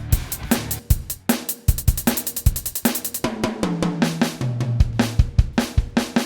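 A drum kit plays a steady groove of kick, snare and cymbal hits. Lower pitched tones join partway through.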